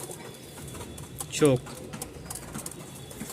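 Pigeons at a pigeon market in Mirpur-1, Dhaka, with one short, throaty coo rising out of a background of steady crowd murmur and someone speaking nearby.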